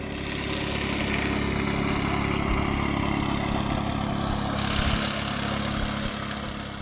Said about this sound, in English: Some small boat is going on the river.